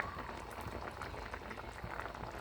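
Coconut milk boiling for ginataang gulay makes a steady, soft bubbling and popping, a close, dense simmer that goes on throughout with no voices over it.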